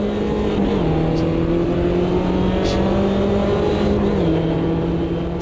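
Race car engine in the Automobilista 2 sim, trailing a Mini in a close pack: a loud, steady droning whine with slight pitch steps as gears and revs shift, continuous throughout.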